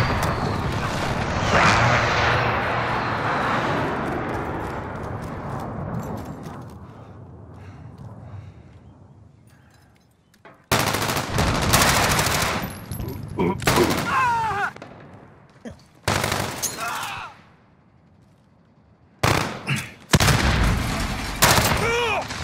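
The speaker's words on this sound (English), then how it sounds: "precision airstrike inbound" A precision airstrike in Call of Duty: Modern Warfare multiplayer rumbles in as a long roaring burst of explosions and gunfire that fades, followed by choppy bursts of nearby shooting and blasts, with a player talking over parts.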